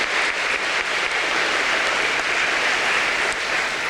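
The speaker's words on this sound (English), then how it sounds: "please give them a round of applause." Audience applause at a high school graduation ceremony, sustained, dense and loud clapping filling the whole stretch without a break.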